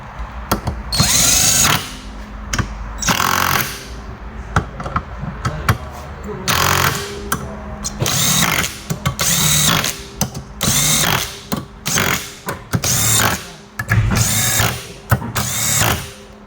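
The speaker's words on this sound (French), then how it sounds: "on vient visser toutes les autres vis" A power screwdriver drives screws into the variator cover of a TGB Blade 1000 LT FI EPS quad, in loud, close whirring bursts that repeat several times with brief gaps between them.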